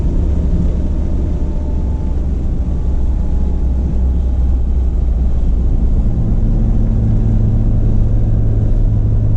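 A Toyota Supra engine runs hard under turbo boost, a loud, sustained roar heard up close from inside the car that climbs slightly in pitch toward the end, with no talking.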